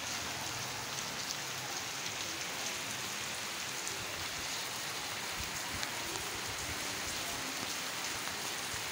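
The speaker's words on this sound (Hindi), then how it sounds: "फुल तेज़ बारिश हो रही है" Heavy rain pouring down outdoors, a dense, steady hiss of falling water that fills the whole clip without letup, loud and close, with no voices.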